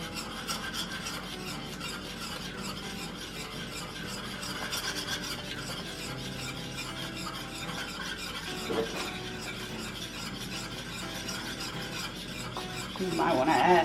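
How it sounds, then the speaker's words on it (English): Milk gravy is stirred steadily in a pan, a continuous scraping rasp of the utensil across the pan bottom that goes on throughout, getting briefly louder near the end. "And you just stir and keep stirring."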